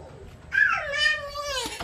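A cat gives a single drawn-out meow that rises and falls, close and fairly clear, over a low background murmur.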